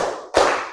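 Sharp hand claps from a classroom group during a counting clapping game, one brief burst after a short pause, fairly loud and near with no talk.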